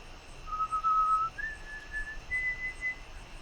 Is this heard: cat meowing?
no